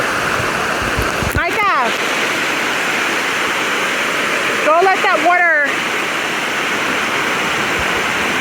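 Loud, steady rush of Dunn's River Falls waterfall in Jamaica pouring continuously throughout, with brief voices speaking over it twice.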